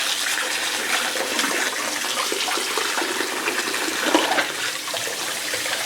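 Water runs continuously as hair is rinsed at a salon basin, a broad, steady, fairly loud splashing rush with slight surges and no talking.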